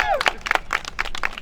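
A crowd claps at a city council election event, a quick run of separate, fairly close claps under a speaking voice.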